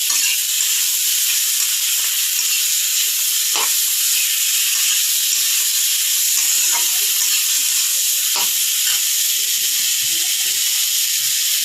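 Fish curry frying in a pan on a gas stove at low flame, a steady close sizzle and hiss running throughout with a few brief stirring knocks.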